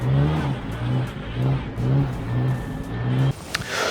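A 4WD engine revs hard off-road while spinning Maxxis RAZR tyres, a loud steady roar that pulses in rhythmic surges, close to the vehicle, ending with a sharp clunk.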